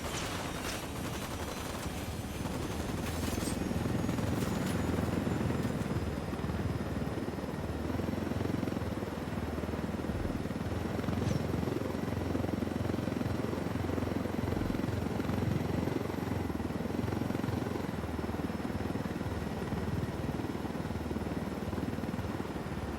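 Helicopter flying in the video game Ghost Recon Wildlands, a steady loud rotor drone that continues through the whole stretch, with scattered sharp cracks like distant gunfire early on.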